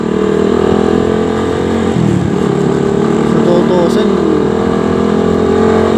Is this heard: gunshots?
no